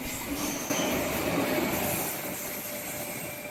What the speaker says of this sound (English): SZ S28 pulling through Carlton, taking its first load of booked passengers